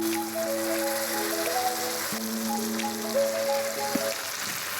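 Boiled dal poured into a hot tadka pan with wilted spinach sets off a steady, close sizzle and crackle that continues throughout, under a sustained tonal background.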